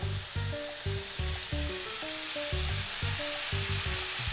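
Ground beef sizzles and fries in a pan, with steady crackling under repeated scraping and stirring strokes that come in a regular rhythm, close and fairly quiet.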